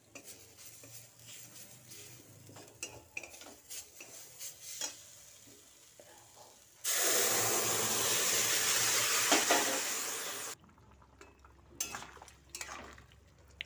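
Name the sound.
vegetables added and stirred in cooking pan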